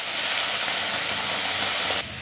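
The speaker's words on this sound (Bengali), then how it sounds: "এবার আমি মাছগুলো ভেজে নেব।" Small bata fish frying in smoking-hot oil, a steady loud hiss and sizzle that holds evenly for about two seconds, then cuts down abruptly near the end.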